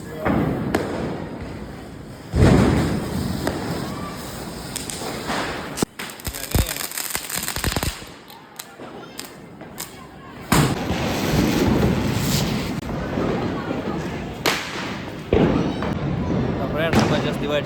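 Diwali fireworks and firecrackers burst repeatedly, sharp loud bangs and cracks coming at irregular intervals over a crowded outdoor din, with people talking and shouting between the blasts.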